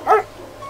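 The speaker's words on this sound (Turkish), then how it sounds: "Köpek sesini duyuyor musunuz?" Dog barking in the distance outdoors, a single short bark rising briefly above quiet background noise.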